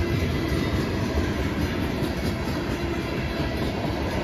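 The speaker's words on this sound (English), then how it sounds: "He is moving. Here's the train" A CSX freight train rumbles past steadily and loudly, a continuous roar of wheels and cars on the rails with faint clatter.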